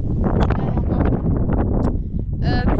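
Strong wind buffets the microphone at the 1,818 m summit of Madeira island, a constant loud low roar that runs under someone speaking throughout.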